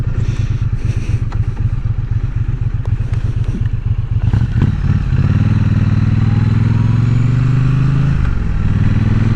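A Triumph Bonneville motorcycle rides along a road, its engine giving a loud, close, rapid pulsing that clatters at first and then settles into a smoother, rising drone.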